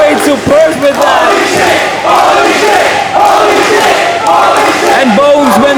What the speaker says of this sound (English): when the crowd chants that, that means we are pleased